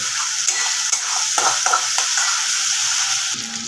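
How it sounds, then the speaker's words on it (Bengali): Chicken curry with cashews being sautéed and stirred in a pan, a steady close sizzle broken by repeated scraping stirs, with no talking. "আর এটা খুব সাবধানেই কষতে হবে কারণ কাজু বাদামটা আছে তো তলায় লেগে যাওয়ার ভয় আছে"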